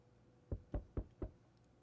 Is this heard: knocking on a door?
yes